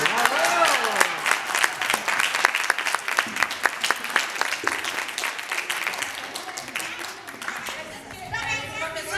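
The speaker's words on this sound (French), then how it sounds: "On les applaudit." A crowd of parents applauds after a children's theatre show, dense steady clapping throughout with children's voices and chatter mixed in, thinning slightly near the end.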